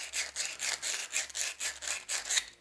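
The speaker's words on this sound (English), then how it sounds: "just take a piece of 120 grit sandpaper, rougher if you want to, you don't have to, and just get these scored up" Pen blanks being scuffed with 120 grit sandpaper, a quick series of rhythmic back-and-forth rasping strokes, close and fairly quiet, with no talking.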